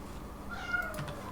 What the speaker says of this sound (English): You can probably also hear my cat meowing in the background.